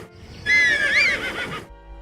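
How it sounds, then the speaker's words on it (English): A horse from the Zelda Breath of the Wild video game lets out a single loud, clear whinny lasting about a second, followed by a brief fade, with no talking. "You can hear the horse whinny, but you can also hear a whistle."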